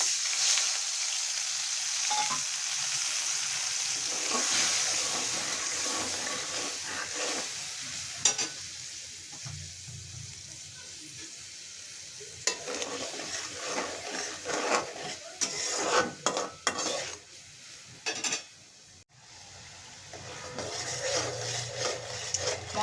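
A turmeric, chili and cumin spice paste sizzles and fries in a pan with green chilies while being stirred, a steady close crackle broken by scraping stir strokes and a few brief clatters.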